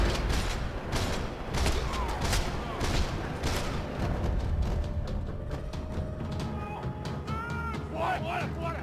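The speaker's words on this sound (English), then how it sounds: "Another parking lot rattling with gunfire." Sustained gunfire in a parking lot shootout in the Max Payne 3 video game, dense rapid cracks and bursts with echoing reports, loud throughout, with voices shouting near the end.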